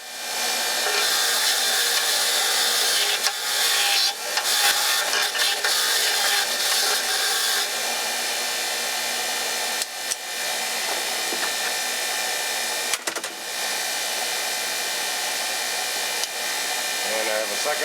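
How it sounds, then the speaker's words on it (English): A wire wheel on a bench grinder cleans the threads of intake manifold bolts for a 1994 Chevy S10 4.3L Vortec, a loud, steady whirring grind that runs nearly nonstop with a few brief dips. "And I just use my wire wheel, clamp it in a vice grip."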